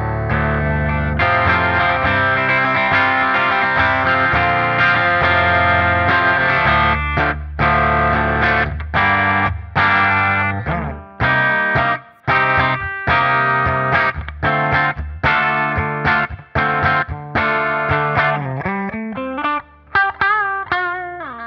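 A Music Man Majesty electric guitar played through its bridge pickup on a clean setting, with loud, bright, slightly gritty chords and picked notes strummed in a steady rhythm with brief gaps, ending in a sliding bend, no voices.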